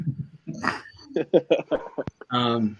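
A puppy whimpers and yips in short high bursts, heard close, mixed with people talking nearby.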